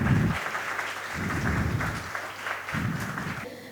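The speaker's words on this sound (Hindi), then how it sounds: "खुद के लिए ज़ोरदार तालियां हो जाएं।" An audience at a youth conclave event claps in waves, with bursts of applause rising and fading over a low rumbling background.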